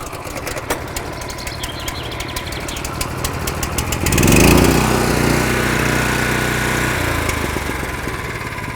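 A gas-powered flail brush cutter for clearing hiking trails is pull-started, rapid ticking of the recoil pull giving way to the small engine catching and running with a steady, close, buzzing chug.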